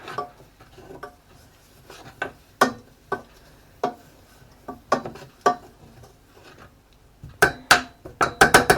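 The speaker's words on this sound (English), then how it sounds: "I'm going to stir that in" A spoon stirring mustard into a cauliflower cheese sauce in a pan, a steady series of sharp metallic taps and scrapes at an uneven rhythm, growing quicker and louder near the end, with no talk.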